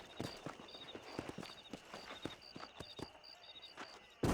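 Horse hooves clip-clopping at a walking pace in Red Dead Redemption, an even run of distinct hoof strikes, fairly quiet, with faint bird-like chirps above and a thump at the end.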